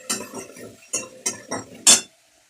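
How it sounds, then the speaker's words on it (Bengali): Salt, sugar, coriander-cumin, chili and turmeric powders being sautéed in a pan make about half a dozen distinct scraping strokes of a spatula against metal, close and crisp, then stop. "ভালো করে এগুলো কষিয়ে নিই"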